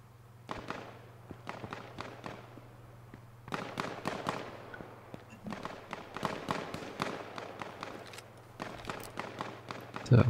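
Distant, crackling gunshots from H1Z1 battle royale pop in scattered clusters and quick runs of single shots, fairly faint against a steady low hum, with occasional footstep-like thuds.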